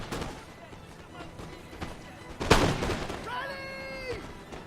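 Scattered musket shots and cannon blasts in a Napoleon Total War land battle, one heavier boom midway among lighter cracks, with a brief horn-like tone near the end and background battle noise.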